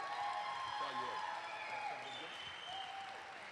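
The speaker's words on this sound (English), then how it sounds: "please welcome her once again with a big round of applause, Laura Delaney George." Audience applause at an athletics Hall of Fame induction ceremony, steady and moderately distant as an inductee is welcomed, slowly thinning toward the end with faint crowd murmur.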